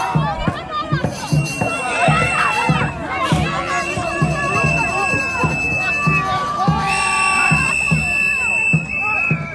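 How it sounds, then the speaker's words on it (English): A street crowd of protesters screams and shouts continuously, a dense mass of overlapping yelling voices with high cries and cheers rising above the din, loud and close throughout. "A bunch of screaming, shouting"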